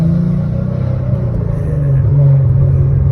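A Dodge Demon's engine rumbles deep and loud from inside the car while driving, a steady low throb that swells slightly as the revs rise toward the end.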